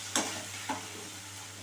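Red and green bell peppers fry in a pan over a lowered gas flame for paneer, a soft steady sizzle broken by two quick spatula taps.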